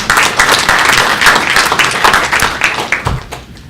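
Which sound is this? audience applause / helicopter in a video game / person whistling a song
audience applause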